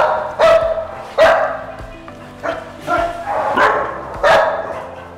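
Dogs at a rescue shelter bark loudly and repeatedly, about six sharp barks in an uneven rhythm, close by with a few yips and whimpers between them.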